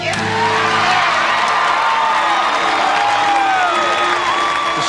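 A large arena crowd at the 1994 Lillehammer Winter Olympics ladies' figure skating cheers and whoops for Nancy Kerrigan, a loud, sustained roar with shrill whistles and shouts rising above it.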